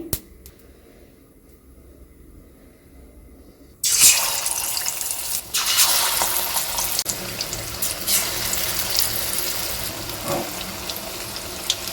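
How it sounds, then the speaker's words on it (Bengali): Gram-flour-battered pieces of boiled egg fry in well-heated oil, a steady broadband sizzle bursting in loudly after a near-silent start and holding close and continuous. "সেদ্ধ ডিমের টুকরোগুলো বেসনে চুবিয়ে খুব ভালো করে ভেজে নিই"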